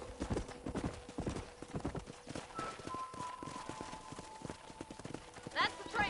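Rapid clip-clop of galloping horse hooves in the western video game Red Dead Redemption, with a brief whinny near the end and faint music under the rhythmic hoofbeats.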